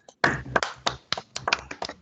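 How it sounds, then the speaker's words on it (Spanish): A small audience greets a speaker with brisk, uneven clapping, a handful of distinct hands slapping in quick succession for about two seconds. "Aplausos a la magíster"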